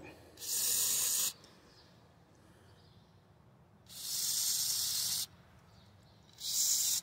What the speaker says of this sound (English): I'm just spraying it in.